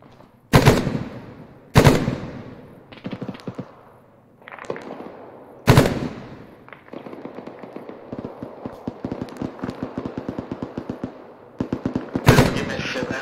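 Video game gunfire: a few loud, sharp single rifle shots ring out with decaying tails, then long rapid automatic bursts rattle steadily before a final heavy volley, close and dominant.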